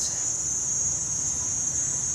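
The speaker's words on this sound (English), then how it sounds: "I can hear the crickets." Crickets chirp steadily in trees near a beach resort in Krabi, Thailand, a continuous high shrill trill with a faint low background murmur beneath.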